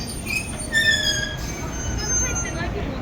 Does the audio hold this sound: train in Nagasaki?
yes